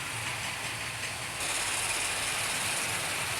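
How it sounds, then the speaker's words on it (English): Three model train locomotives run together on a track, giving a close, steady whirring and hissing rattle that brightens and grows a little louder partway through. "let's have a quick running session then with these 3 locos"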